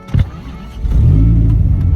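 An old 800-horsepower Dodge Viper cranks and catches, a short starter whir giving way to a loud, steady idle rumble that holds close to the microphone.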